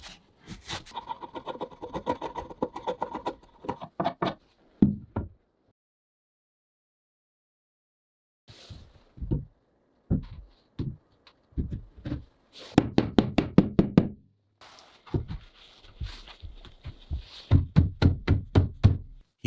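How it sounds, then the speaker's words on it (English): A chisel being struck to shape wood for a tight-fitting joint on an off-grid forest cabin, heard as bursts of sharp knocks and taps with a long quiet pause in the middle, fairly close and alone. "He shapes the wood precisely with a chisel, ensuring that when the two pieces are joined, they fit tightly and stand firmly in place."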